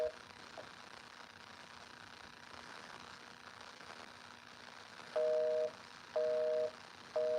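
After a stretch of quiet line hiss with a low steady hum, a telephone busy signal starts on a call to a Public Information Office on Long Island, three evenly spaced dual-tone beeps, loud and clear.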